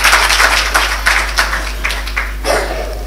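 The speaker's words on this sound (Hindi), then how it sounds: "सर ना धुनिए तालियां बजाइए आप लोग।" An audience at an Urdu literary award ceremony claps in a loose burst of applause, the claps close and fairly loud, fading somewhat toward the end.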